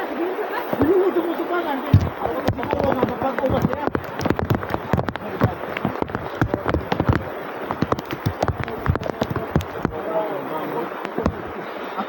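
Heavy rain pours down in a rough outdoor survival setting, a dense, steady downpour with sharp spattering impacts throughout, while people talk over it.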